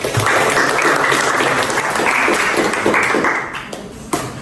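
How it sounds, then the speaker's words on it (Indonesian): University students applaud after a group presentation in class, a loud, continuous burst of many hands clapping that thins out and tapers near the end, with a last stray clap. "Kita tepuk tangan dulu buat."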